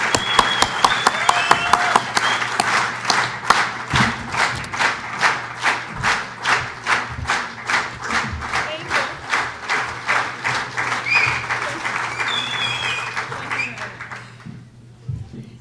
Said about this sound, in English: please welcome our speaker, Ms. Adeola, with the greatest applause poss